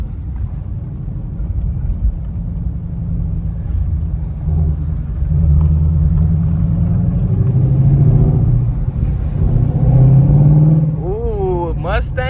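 Shelby GT500 Mustang engine accelerating on a road, a steady low rumble that swells and rises in pitch as it climbs through the revs, with wind noise on the microphone.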